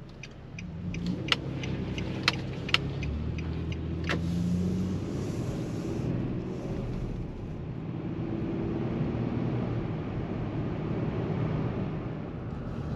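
A car on a mountain road in the Allegheny National Forest, heard from inside as a steady engine and road rumble that holds through the whole stretch, with a few sharp clicks and knocks early on.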